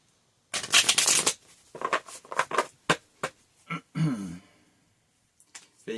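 A deck of playing cards being shuffled up close: bursts of riffling and rapid fluttering patter, broken by short pauses and a few single snaps, with no talking.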